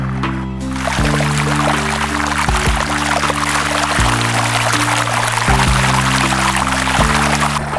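Water of the Cedron river rushes in a constant loud flowing wash, with low droning tones shifting in steps underneath and no voices.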